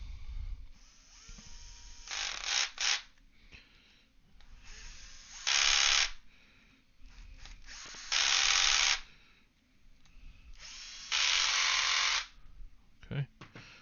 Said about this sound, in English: Now it's tight with the driver.